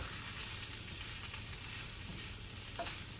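Ingredients for pansit sotanghon sautéing in a pan, giving a steady, moderately loud sizzle with soft stirring scrapes throughout and no talking.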